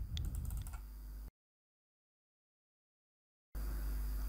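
Typing on a computer keyboard in a search bar, a quick burst of close key clicks followed by dead silence, then a steady background hum.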